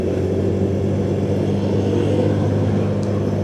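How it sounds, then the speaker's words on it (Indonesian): Motorcycle exhaust and engine rumbling steadily during a solo ride, a continuous low drone with wind noise, loud and close throughout, with no voices. "Oh, suara knalpotnya."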